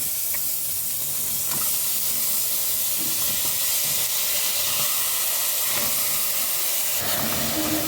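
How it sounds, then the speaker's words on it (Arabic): Two large onions frying in a single spoonful of hot oil give off a loud, continuous hiss that stays even and close from start to finish, with faint clinks beneath it. "عندي الزيت هيسخن، هنزل عليه بصلتين كبار"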